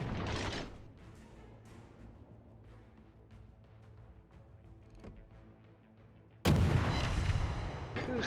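Naval gunfire from the Akizuki destroyer in World of Warships: a loud, dense blast opens, a low mechanical rumble with faint creaks follows, and then a second heavy salvo roars and holds.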